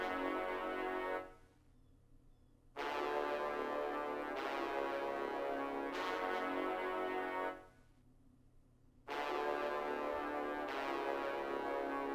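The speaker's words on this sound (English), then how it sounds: "the first thing I laid out is this super simple trumpet pattern" Simple synth trumpet pattern, a three-note melody spread across a couple of octaves, played as long bright brassy notes with short gaps between phrases, loud and alone with no voices.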